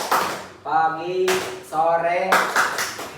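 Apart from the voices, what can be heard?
hand clapping in a classroom focus clap game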